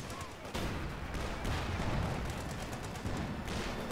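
Rapid gunfire and explosive battle noise from the World War II strategy game Company of Heroes 2, a dense, continuous barrage of shots and booms with sharper bursts near the start and end, with voices talking underneath.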